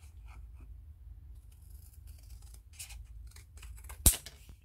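Scissors cutting craft material for a pen pot project, a few soft snips building to one sharp, loud closing snap near the end, close up in a quiet room with a low hum.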